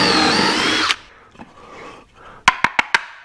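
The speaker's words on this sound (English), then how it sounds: "Putting some Craig screws in the bottom of this." A power drill whirs steadily for a second driving screws into the wooden base of a foyer table, then stops; a few soft knocks follow, and four sharp wooden clicks close it out.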